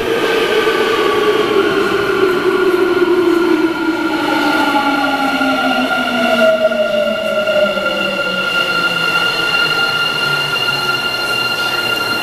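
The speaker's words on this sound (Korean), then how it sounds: "列车马上就要进站了." A Busan Metro Line 2 subway train rolls into Seomyeon station with a loud steady rumble and gliding, descending metallic whines as it slows, sustained throughout.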